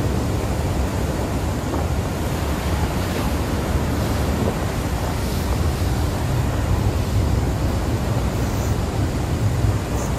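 Ocean surf at Nusa Penida, Indonesia, a steady broadband wash of breaking waves with wind rumble across the microphone, loud and continuous with no talking.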